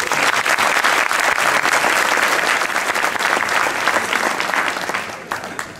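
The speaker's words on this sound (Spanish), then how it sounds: "Muy bien, Elena, un fuerte aplauso" A large festival audience at a 2023 flamenco song contest applauds loudly for the singer Elena, a dense, continuous wash of clapping that holds strong for several seconds and then begins to fade.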